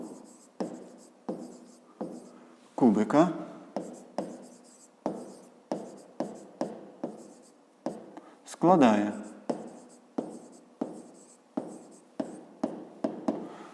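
A pen writes out a fifth-grade math solution on paper by hand, its short scratchy strokes coming in a quick, regular rhythm at close range, while a voice speaks briefly in Ukrainian.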